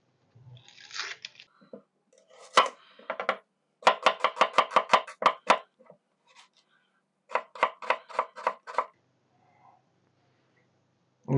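A knife chops onions on a cutting board in a home kitchen, crisp rapid knocks coming in bursts of six to eight strokes with short pauses between, close and clear with no talking.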